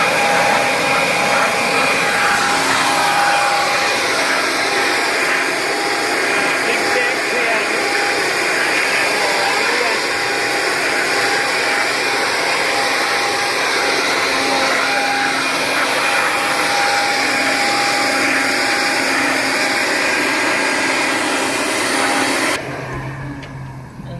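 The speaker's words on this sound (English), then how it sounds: "I will blow the chalk, which was coming in from the other side" Compressed air blasting chalk dust out of AC filters, a loud steady hissing roar with a faint tonal whine that runs unbroken for over twenty seconds before cutting off abruptly near the end.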